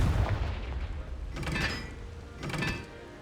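Confringo blasting spell effects in Hogwarts Legacy, two sharp explosive bursts about a second apart over a low rumbling background, each ringing briefly before decaying.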